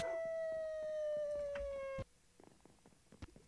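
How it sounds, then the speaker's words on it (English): A tamed dog in the Minecraft video game gives a long, falling whimpering whine after being hit, then stops abruptly and is followed by faint scattered clicks. "The dog. I hit my dog."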